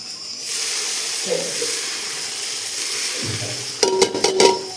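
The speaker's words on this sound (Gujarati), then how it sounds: "ચાલો તો આપણે વઘારી નાખીએ" Spices tempering in hot oil for dhokla crackle and sizzle, a steady frying hiss with a few sharp pops and spoon clinks near the end.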